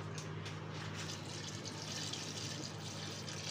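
Water is poured into a cooking pot (handi) in a home kitchen, making a steady, moderately loud rushing, gurgling flow that continues without a break and with no talking.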